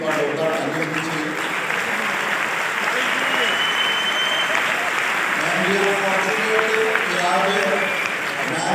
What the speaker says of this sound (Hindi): तो दादा के लिए एक बार जोरदार ताली होनी चाहिए